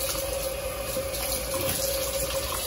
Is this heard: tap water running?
yes